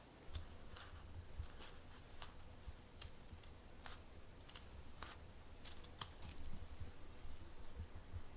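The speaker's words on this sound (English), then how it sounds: "So now I guess we're ready to just cut these out and hope for the best." Scissors snip through curtain fabric in a string of quiet, close, irregular cuts, each a brief crisp shearing sound against a hushed room, no talking.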